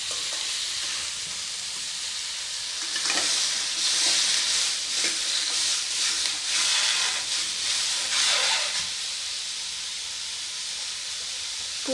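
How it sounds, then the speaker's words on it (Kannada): Tomatoes fry in a kadai for tomato chutney, a loud, continuous hissing sizzle that swells midway as the pieces are stirred through with soft scraping strokes, and no one speaks. "ಈಗ ಇದೇ ಕಡಾಯಿ ಒಳಗೆ ನಾವು ಟೊಮ್ಯಾಟೊನೂ ಫ್ರೈ ಮಾಡ್ಕೊಳ್ಳೋನು"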